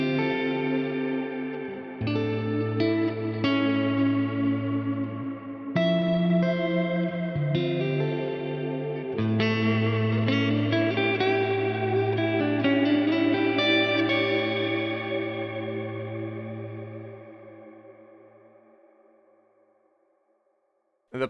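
Electric guitar notes and chords through an Axe-Fx III's Plex delay and Plex reverb, drenched in echoing delay and lush reverb, swelling and layering before fading slowly into silence.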